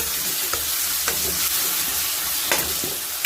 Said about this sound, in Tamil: நல்லா எண்ணெயிலேயே வதங்கிட்டோம்